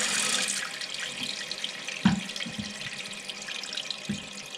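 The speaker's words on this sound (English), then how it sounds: "So I think what we need to do now is let some water back in." Water hisses steadily as a cistern refills, with a few soft knocks and drips breaking through the constant rushing flow.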